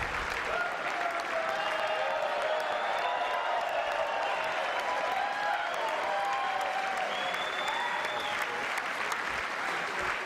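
Long, sustained applause fills a chamber during a presidential address to Congress, a steady wall of clapping and crowd noise, with a voice speaking faintly beneath it.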